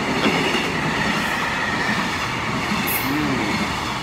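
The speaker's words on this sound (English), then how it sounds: "There goes the train." A train passing through a station in Japan at night, a steady loud rumble of rolling wheels with faint squeals and rail clatter, no voices.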